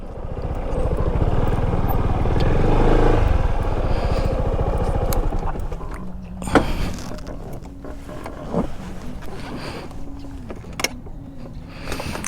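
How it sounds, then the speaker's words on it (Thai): A Yamaha X MAX 300 scooter engine rumbles at idle while parking, loud at first and then settling lower with occasional clicks and knocks. "จักรยานยนต์ก็จอดกันจุดนี้นะครับ"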